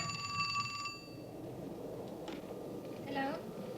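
Telephone ringing at night, a bright electronic ring with harmonic tones lasting about a second at the start, followed by quiet room noise and a faint voice near the end.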